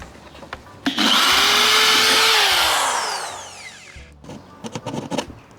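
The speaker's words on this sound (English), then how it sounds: "I'm going to drill a hole that is as big in diameter as the smallest blade" A power drill whines loudly as it bores a hole in wood for a portable folding tablesaw build, the motor rising and holding for about three seconds before spinning down, followed by quieter handling clatter.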